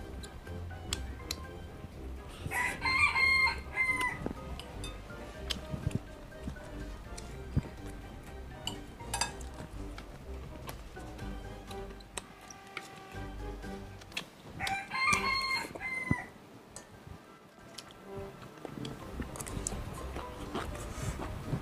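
A rooster crows twice at a Vietnamese home, each long cock-a-doodle-doo clear and fairly near, with clucks, ticking and other faint household sounds between the crows.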